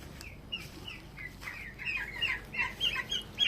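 Two-month-old chicks in a backyard flock giving soft, repeated clucks and peeps, growing busier and closer toward the end over a quiet outdoor background.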